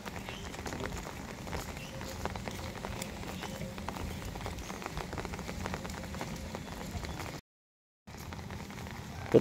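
Steady rain falls on an outdoor surface during a Buddhist almsround at a forest monastery in Bangka, a continuous dense patter with scattered heavier drops. It cuts out briefly near the end and then resumes.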